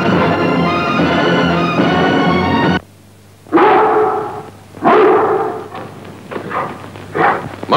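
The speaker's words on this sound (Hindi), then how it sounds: "साडे कुत्ते क्यों पे रोंदे ने?" Dogs barking in a rural Punjabi setting, several loud, close bursts of barking in a quick irregular run after a pause, with a thumping noise earlier.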